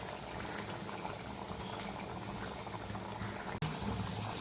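A coconut fish curry bubbles as it thickens and reduces, making a continuous dense simmering burble up close, with a brief knock near the end.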